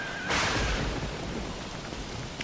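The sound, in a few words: rain and thunderstorm in the video game Don't Starve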